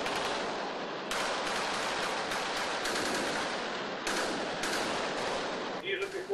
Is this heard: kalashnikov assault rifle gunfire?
yes